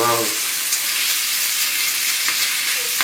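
Beef and onions sizzle loudly in a hot pan while being stirred, giving a dense, steady frying hiss with a few scraping accents from the utensil and no speech.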